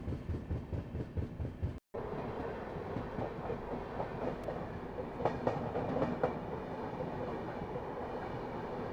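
A Rajdhani Express passenger train runs steadily on rails, with a continuous rumble and rhythmic wheel clatter heard from inside the coach and a brief dropout near the start.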